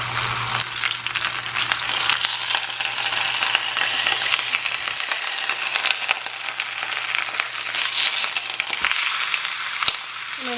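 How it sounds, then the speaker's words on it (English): A chuck roast browns in olive oil in a pot for a Sunday pot roast, giving a steady close sizzle and crackle with occasional pops that runs unbroken throughout. "now I'm going to brown a chuck roast in here because we're going to make a Sunday pot roast"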